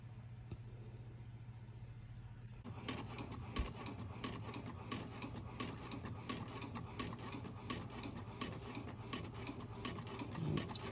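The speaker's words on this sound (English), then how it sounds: "click the print button and hit print and then let it do its thing" A printer hums and whirs steadily as it prints a unicorn T-shirt design, starting after a brief quieter stretch and then running on with a continuous mechanical rattle.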